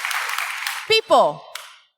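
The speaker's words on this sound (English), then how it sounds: "let's give a hand of applause for that shit" An audience applauds a speaker at a talk; the clapping lasts under a second, then a voice speaks briefly over the fading applause.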